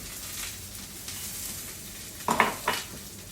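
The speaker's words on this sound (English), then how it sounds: "And now you can cook the garlic out on those potatoes." Potatoes and garlic fry in oil with a steady close sizzle, then two louder bursts near the end as they are stirred in the pan.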